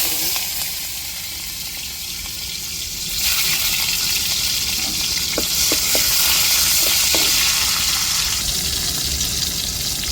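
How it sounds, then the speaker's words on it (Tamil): Loud, steady sizzling of shallots frying in hot oil to temper a fish curry, swelling after a few seconds, with a few faint clinks from the pan. "இப்போ குழம்பு தாளிக்க நம்ம சின்ன வெங்காயம் கட் பண்ணியிருக்கோம்"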